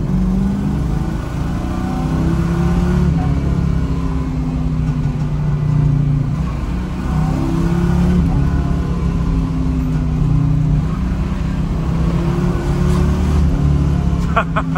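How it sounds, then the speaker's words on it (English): V8 car engine pulling and accelerating while driving, a loud, steady low rumble with rising and falling pitch sweeps as it revs, the drone continuous throughout. "The good thing is it has a pretty big engine, so it is a V8"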